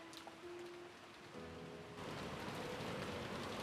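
Steady rain in the visual novel Umineko no Naku Koro ni, a dense even hiss that grows fuller partway through, with faint tonal game music early on and no speech.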